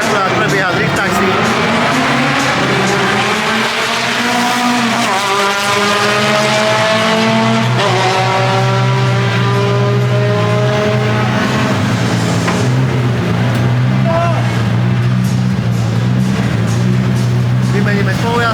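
Drift car at the R2M Drift Team Power Fest giving drift taxi rides, with an engine roaring steadily and rising in pitch alongside tire squeal, while a person talks over it throughout.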